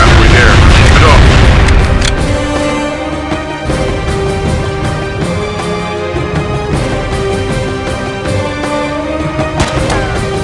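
Bombs exploding in the Enemy Strike mobile combat game, a loud continuous barrage of deep booms and rumbling blasts layered over game music and effects.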